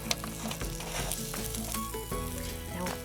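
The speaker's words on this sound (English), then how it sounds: "I hear a sizzle and I think it's ready" Ham and chutney panini sizzling on a grill, a steady close frying crackle with faint scraping and stirring clatter running throughout.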